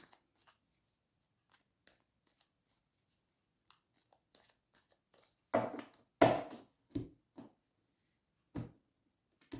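Tarot cards are shuffled in a few quick riffled bursts near the microphone after mostly quiet ticking, with no speech.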